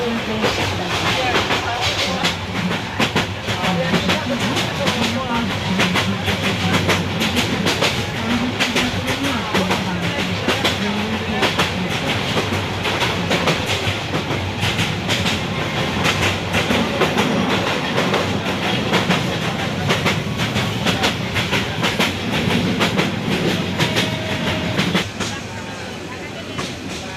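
The intercity Kishoreganj Express from Dhaka to Kishoreganj runs along the rails in a loud, continuous rumble with rhythmic clickety-clack of wheels over joints, heard steadily from onboard with faint talk beneath.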